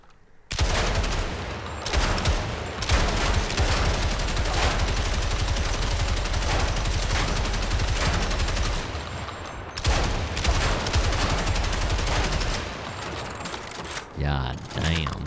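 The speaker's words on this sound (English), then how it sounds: "Big, fat, heavy machine gun." A heavy machine gun in Crimson Desert fires loud, dense, sustained bursts, rattling almost continuously with a brief pause partway through before resuming.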